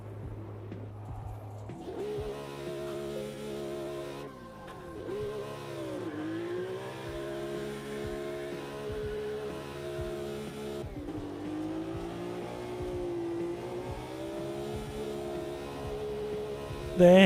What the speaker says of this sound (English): It sounds like the engine is wobbling on the engine mounts.